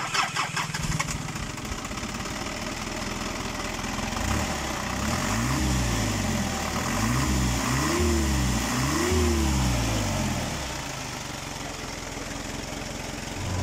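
An Isuzu Elf truck engine cranks and catches, then settles into a steady idle while the throttle is blipped in several rising and falling revs before dropping back to a low, even rumble, close and loud.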